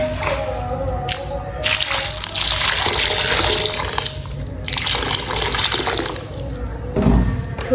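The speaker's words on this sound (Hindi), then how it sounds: "चले जी, पानी ऐड करते हैं।" Water poured into a crumbling milky white stone mixture, a loud continuous splashing gush in several pulses with brief pauses between pours, close up and without talk.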